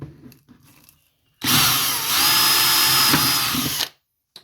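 A power drill fitted with a 4mm bit whines through a plastic battery tray in one loud burst of about two and a half seconds, the pitch steady with a brief dip midway, starting and stopping abruptly after a quiet lead-in.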